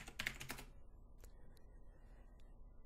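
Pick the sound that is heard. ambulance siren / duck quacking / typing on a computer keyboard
typing on a computer keyboard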